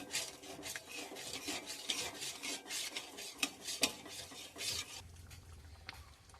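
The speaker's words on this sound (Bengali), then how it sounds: "আবারও নাড়িয়ে ছাড়িয়ে 2-4 মিনিট এইভাবে জাল দিতে থাকবো।" A spoon scrapes repeatedly through tomato pickle with sugar simmering in a pan, making soft rhythmic rasping strokes with a few sharper knocks against the metal, quiet and close with no speech.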